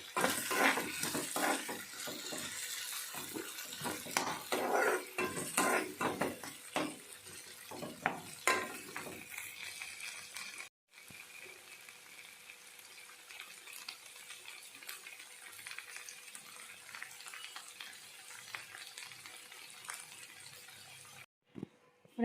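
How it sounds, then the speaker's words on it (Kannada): Pasta being stirred through tomato sauce and cheese in a pan, with steady wet scraping and sizzling and occasional clinks, continuing as a softer background hiss after a brief break. "ಪಾಸ್ತಾ ಎಲ್ಲ ಹಾಕಿ ಮಿಕ್ಸ್ ಮಾಡೀನಿ ನೋಡಿರಿ"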